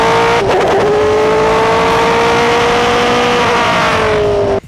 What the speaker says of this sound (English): You're in an open-seater, proper race car, V8 screaming in your ears